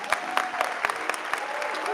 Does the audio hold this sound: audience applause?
yes